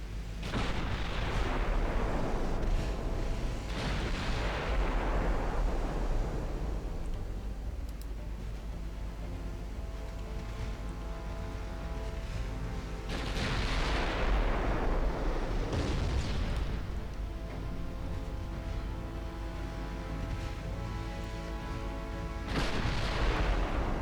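Naval guns firing high-explosive shells in the naval battle game Ultimate Admiral, several deep, thunderous salvos spaced seconds apart, each roaring out and tailing off slowly over a constant low engine drone.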